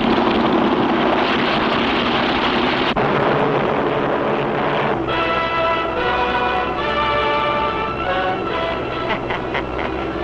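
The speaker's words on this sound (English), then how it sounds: "Giant bomber being stolen. Take off immediately." A giant bomber takes off as a radio drama sound effect. A loud, continuous engine roar holds steady, then turns into a droning, tonal engine whine that runs to the end, with no speech over it.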